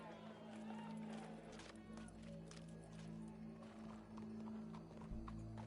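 Horse hooves clip-clop steadily in the Red Dead Redemption 2 video game, a continuous rhythmic patter of hoofbeats at moderate distance with faint voices and background activity underneath.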